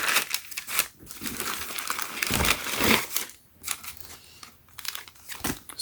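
White tissue paper crinkles and rustles around Nike Air Jordan 1 High Retro Light Smoke Grey shoes during unboxing, close-up bursts of crumpling and crackling in irregular handfuls, with no talking.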